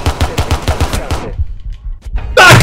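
Rapid bursts of automatic gunfire in Rainbow Six Siege rattle off in a steady rhythm, then stop, followed by a few scattered shots and a sudden loud blast at the end.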